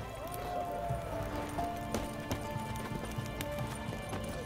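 Roach the horse galloping in The Witcher 3, rhythmic hoofbeats under layered game music and ambience, steady and moderately loud throughout.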